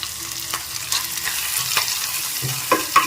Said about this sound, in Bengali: একটু নেড়ে চেড়ে ভেজে নিচ্ছি